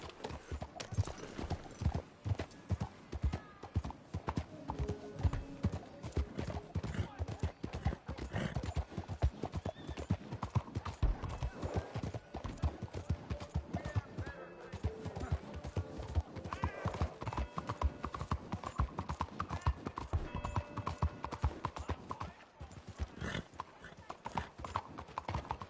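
A horse gallops in the Red Dead Redemption video game, its rapid hoofbeats pounding steadily throughout, with occasional whinnies and voices talking over the hooves.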